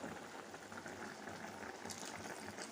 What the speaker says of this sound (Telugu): ఈరోజైతే వంకాయ కర్రీలో చింతపండు పులుసు పోస్తున్నానండి